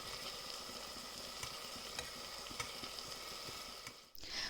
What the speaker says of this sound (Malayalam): ഇനി നമുക്കൊരു മീഡിയം ഫ്ലെയിമിൽ ഇതൊന്ന് ലൈറ്റ് ഗോൾഡൻ കളർ ആവുന്നിട വരെ ഒന്ന് വറുത്തെടുക്കണം.